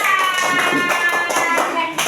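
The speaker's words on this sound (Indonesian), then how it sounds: "Tepuk tangan untuk kelompok 2." A classroom group claps together for group 2, a steady patter of hands with a few voices mixed in.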